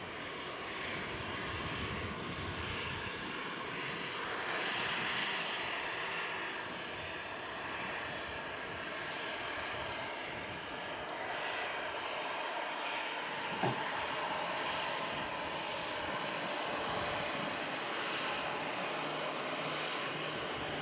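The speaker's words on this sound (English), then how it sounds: "The old style reverse thrust. See these on the Rolls-Royce Trent 700s as well, this style." An airliner landing with butterfly-style reverse thrust like that on Rolls-Royce Trent 700 engines gives a steady, distant broadband roar that holds for about twenty seconds, faint and wide with no voices.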